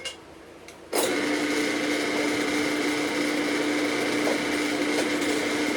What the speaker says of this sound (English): So we're gonna drill some holes in our control plate.